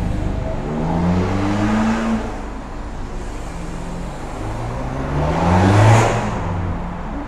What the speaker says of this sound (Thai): รถเข้าออกตลอดนะครับลูกค้า